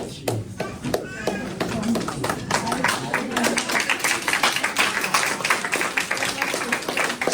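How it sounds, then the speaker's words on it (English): People at a library board meeting break into sustained applause, dense and close clapping that builds after a quieter opening and keeps a steady rapid rhythm throughout. "More of that disruptive applause going on there."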